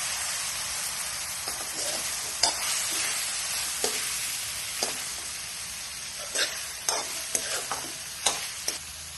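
Boiled green peas hiss and sizzle in a hot frying pan with chillies for a semolina kachori filling, punctuated by a string of sharp spatula taps and scrapes, close and without talk.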